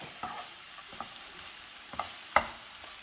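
Agathi flower thoran is stirred in a pan, with a faint low sizzle and a few sharp spatula knocks and scrapes at irregular intervals, one louder clack near the end.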